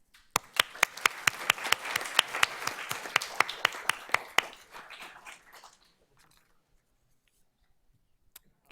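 A small board-meeting audience claps for students recognized for 4-H and extracurricular achievements, a sparse run of sharp, distinct claps over a soft bed of clapping that fades out after about five seconds, leaving quiet.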